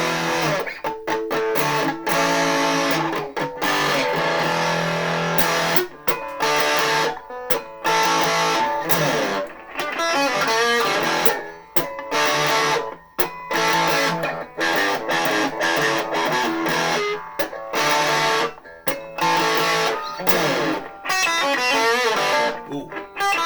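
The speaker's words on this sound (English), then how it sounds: "this is the distortion on this thing" Distorted electric guitar from a Donner DST-152, loud, crunchy chords and choppy riffs played through a distortion effect, with short stops between phrases.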